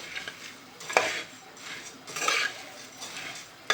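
A spoon scrapes and clinks against a pan while puffed rice roasts in oil with turmeric, the stirring coming in several bursts of scratchy rustling, close and fairly loud, with no talking.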